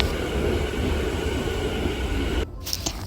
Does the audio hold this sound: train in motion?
yes